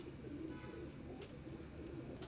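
Pigeons coo steadily in a pigeon park, low rolling calls layered and continuous at moderate distance with no talk over them.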